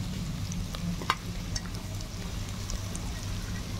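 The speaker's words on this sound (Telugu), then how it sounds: "ఇప్పుడైతే ఇగోండి నెత్తలు కూడా వేసేసుకుందాం" Dried anchovies (nettalu) from Bandar hit a pan over a wood-fired stove and fry with a steady close sizzle and crackle, a few sharp pops and scraping stirs breaking through the constant hiss.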